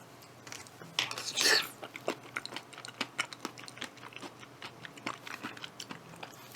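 Someone eats cold rice porridge up close, with soft, wet mouth sounds and light spoon taps repeating irregularly, including one louder burst near the start.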